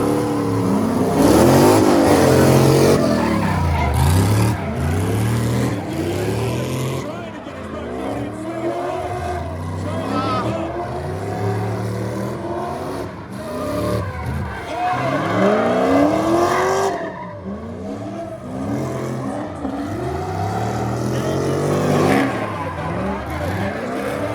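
A red Corvette and an LS-swapped Nissan G35 drift together on a track, engines revving hard and tires squealing loudly throughout while an announcer talks excitedly over the noise.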